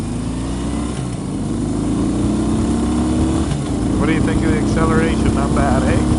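A 2015 Harley-Davidson Breakout engine drones steadily, its pitch rising as it accelerates, with wind rush and someone talking over it toward the end.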